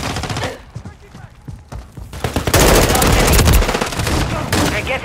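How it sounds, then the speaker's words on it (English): Call of Duty MW3 gunfire: loud, dense bursts of rapid automatic shots and heavy fusillades, close and continuous, with a shouted voice in the mix. "Taking effective fire!"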